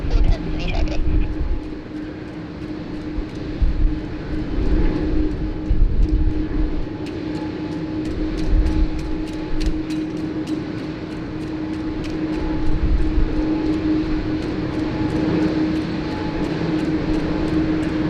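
A plane takes off at Sydney Airport, its engine roar a broad, steady rumble that swells and holds for the whole stretch, with talk over it.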